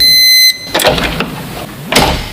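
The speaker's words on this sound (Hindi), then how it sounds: "दरवाजे की आवाज एक बार फिर से आई" A door creaks and shuts within a horror story, starting with a sharp sustained tone. Then comes a rough scrape and a loud final bang, all loud and close.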